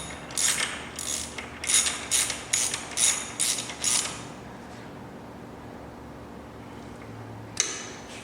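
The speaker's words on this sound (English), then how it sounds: "take your ratchet and finish it off" A ratchet tightening a frame slider bolt on a Yamaha R3 motorcycle, heard as a rapid series of about eight close, crisp clicking strokes, then quiet, then one final click.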